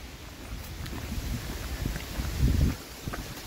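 Wind gusting on a hiking trail near a deep crevasse along the Appalachian Trail, a steady low rumbling buffet on the microphone that builds into a stronger gust near the end.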